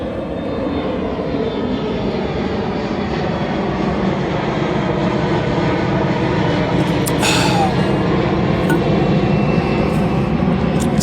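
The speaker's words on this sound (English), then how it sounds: "Another plane. It's going to be loud." A continuous loud roar of a low-flying airplane passing overhead, steady rumbling throughout with no talking.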